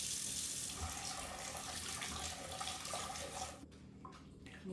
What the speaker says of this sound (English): I'm going to use some warm water and vinegar.